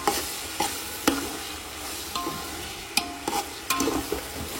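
Mutton sukka with onions being stirred in a pan after salt is added: sharp spoon scrapes and clacks land at irregular intervals over a soft, continuous sizzle, close and fairly quiet.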